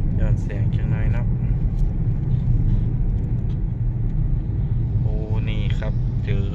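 Heavy city traffic in Bangkok heard from inside a car stuck in a jam: a steady low engine and road rumble throughout, with people talking over it.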